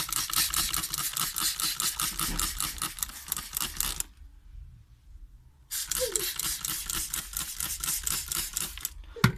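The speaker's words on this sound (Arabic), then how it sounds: "اجيب البخاخ، اي نوع بخاخ" A handheld spray bottle pumps repeatedly onto dusty houseplant leaves, a rapid run of crisp hissing squirts, a short pause, then another steady burst of close sprays.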